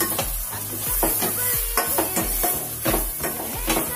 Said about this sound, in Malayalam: അത് നമുക്ക് ചെറുതായിട്ടൊന്ന് ഇളക്കി കൊടുക്കാം